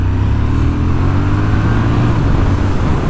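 A 2025 Triumph Speed Twin RS sport retro motorcycle accelerates hard on the road at 60-limit speed, its loud twin engine droning steadily with a rising low pitch, alone and close.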